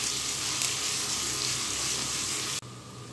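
Onions fry in oil in a pan, a steady, loud hissing sizzle that runs continuously, then drops abruptly to a quieter sizzle near the end.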